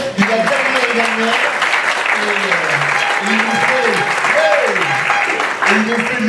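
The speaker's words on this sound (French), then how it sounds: "Donc vous pouvez déjà l'applaudir" Audience applause at a French digital-industry awards ceremony, greeting the previous year's trophy winner; steady dense clapping fills the room while a voice speaks over it throughout.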